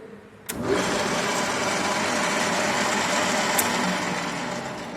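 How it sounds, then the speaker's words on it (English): A center lathe powered by a three-phase induction motor starts up and runs steadily, its spindle and chuck spinning with a continuous broadband mechanical whir and hum, close and fairly loud. "there is a motor, 3-phase induction motor, which helps to rotate all these mechanisms"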